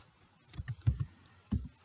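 Computer keyboard keys typed in a few short bursts, sharp clicks clustered in quick groups with brief pauses between, close and moderately quiet.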